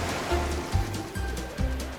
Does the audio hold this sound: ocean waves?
yes